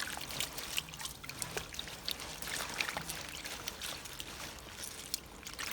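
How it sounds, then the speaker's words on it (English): Running water splashes and trickles nearby as green onions are rinsed under it, a steady spatter with small irregular bursts. "Rinse with clean water."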